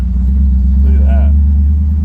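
A Jeep CJ-5 with an LS engine swap rumbles loudly and steadily in a low drone up close while driving, and a voice talks briefly over it.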